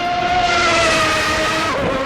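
A high-pitched 1992 McLaren MP4-7 Formula 1 engine in the Assetto Corsa video game screams steadily at full throttle, its whine sliding slightly in pitch as the car speeds along, loud and unbroken.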